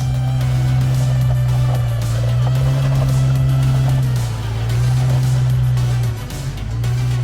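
A two-wheel-drive vehicle fitted with DIY snow tracks drives with a loud, steady engine drone that holds throughout, dipping briefly near the end, with no voices over it.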